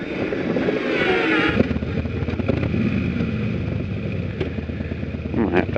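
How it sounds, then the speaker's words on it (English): A motorcycle engine idles steadily up close, a loud, continuous low rumble with some wind noise running through the whole stretch. "I'm gonna have to idle my bike up."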